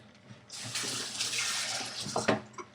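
Water pours steadily into a container for a couple of seconds, a soft rushing splash that trails off with a few drips.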